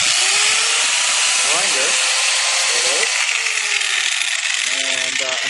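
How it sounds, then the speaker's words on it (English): A Ryobi grinder whines loudly and continuously as it cuts bolts off an old Toyota bumper, with the pitch dipping and rising as the disc bites into the metal, close to the microphone. "I'm using this Ryobi grinder."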